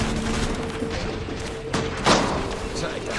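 Gunfire in Assassin's Creed III during a battle, with two sharp, fairly loud reports about a third of a second apart over a steady, noisy game ambience.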